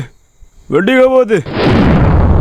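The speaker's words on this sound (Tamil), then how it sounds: "வெடிச்சிடுச்சு" A Bingo firecracker goes off during Diwali celebrations; a voice calls out briefly, then a loud, close burst rolls into a sustained noisy roar that lasts to the end.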